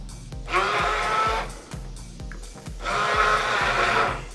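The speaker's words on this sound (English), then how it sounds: "I have an immersion blender, and I like to go in here with that." An immersion blender chopping cooked chickpeas on low in a cup, whirring in two short pulses close by with a brief pause between them, with no talking.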